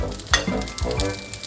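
Chinese sausage fried rice stir-fried with soy sauce and green pepper, sizzling in the pan while a spatula scrapes and tosses it in quick irregular strokes, close up and without talk.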